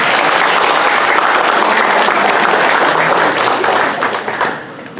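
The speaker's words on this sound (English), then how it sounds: "let us greet him with a warm round of applause, Mr. David Lim." An evening event audience gives a warm round of applause, dense and loud crowd clapping that fills the room, then thins out and fades near the end.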